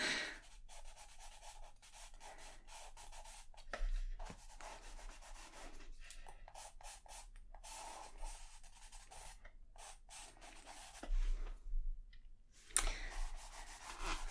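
An eraser rubs out a charcoal sketch on paper in quick, soft scratchy strokes, close and quiet, repeating in short bursts with brief pauses between.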